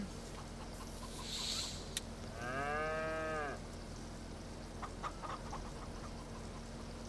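Cattle lowing in the Farming Simulator 25 farm game, one clear drawn-out moo at mid distance over a steady hum of ambient farm noise, with a faint higher bird-like call just before.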